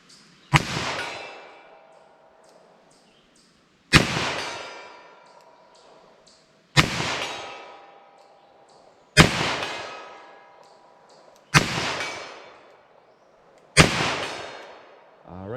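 Five loud, sharp gunshots from a .32 H&R Magnum revolver with a 4-inch barrel, fired one at a time at an unhurried, fairly even pace, each crack followed by a decaying ring in an otherwise quiet outdoor setting.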